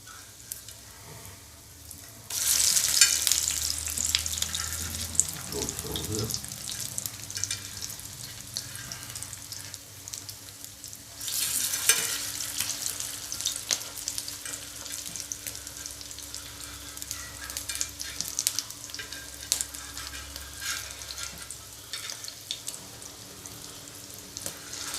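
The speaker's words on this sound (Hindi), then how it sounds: "इसलिए थोड़ा मीडियम आंच पे हम फ्राई करेंगे" Fish kababs fry in oil in a pan over medium heat, giving a steady close sizzle that runs throughout. Louder crackling bursts come in as pieces are moved or flipped.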